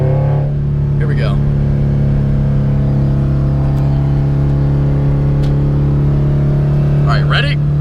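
A car engine with no turbo drones steadily and loudly, holding a deep, even hum with a faint rise in pitch and a couple of brief voice sounds over it.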